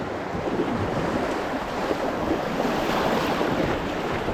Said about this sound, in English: We got a nice 90-degree bend here. Some deep rapids right here.